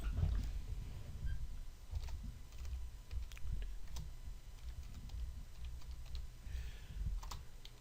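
Keystrokes on a computer keyboard while editing text in a document, a scattered run of soft clicks over a low background rumble, with no one speaking.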